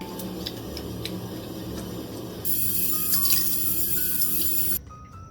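Tap water running into a bathroom sink during a face rinse, a steady close splashing rush that grows louder midway and then cuts off near the end, with no talking.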